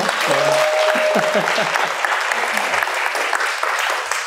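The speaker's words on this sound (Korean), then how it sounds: "박수 한번 주세요" Audience applause at a book talk with author Choi Min-seok, a full burst of clapping that starts loud with brief voices early on, then gradually thins and fades.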